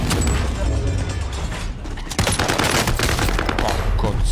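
Rapid automatic gunfire rattles almost continuously through a first-person shooter match, dense bursts with a louder cluster midway, while a player talks over the shooting.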